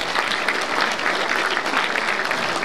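Dense applause from a rural housewives' association audience at a Silesian dialect comedy contest, a steady roar of many hands clapping throughout with no break.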